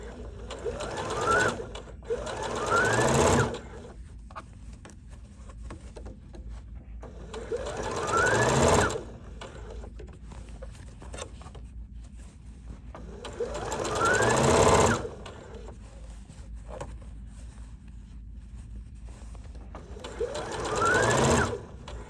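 A sewing machine stitches a bucket hat in four distinct bursts of a few seconds each, separated by quieter pauses, loud and close with no talk.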